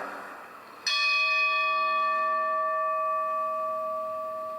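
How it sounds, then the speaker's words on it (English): A church bell in Lewiston strikes once and its deep tone hangs and slowly fades, ringing on clearly over a soft background hush. "Church bells ringing Sunday afternoon in Lewiston."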